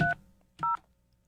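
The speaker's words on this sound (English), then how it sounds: "Okay, now I can dial." Two telephone keypad dialing tones beep in quick succession, short clean electronic pips with a brief pause between them in an otherwise quiet room.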